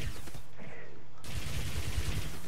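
Rapid gunfire bursts in the space shooter game Descent: Underground, a short clipped volley of shots with a brief mechanical gap before the fire resumes, loud and close with no talk.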